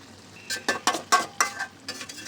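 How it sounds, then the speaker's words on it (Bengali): Spoon stirring gourd ghonto with a fried hilsa fish head in a pan, a series of short scraping, clinking strokes in an uneven rhythm, close and moderately quiet, with no voices. "এবার মাথাটা একটু ঘণ্টর সঙ্গে ভালো করে মিশিয়ে দেব"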